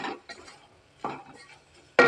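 Masala spices being stirred into food in a cooking pot, in three distinct scraping strokes of a spoon against the pot, close and fairly quiet, with no talking.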